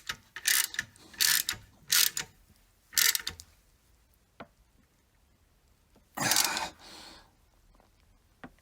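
A hand ratchet with a 15 socket tightens a bolt on a Jeep Cherokee engine during timing chain and harmonic balancer work. Several short, close, rapid clicking bursts come in quick succession, then a pause and one longer ratcheting run.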